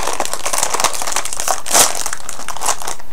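A bag of Ruffles lime jalapeno chips is pulled open, giving loud, close crinkling and crackling of the foil snack bag throughout.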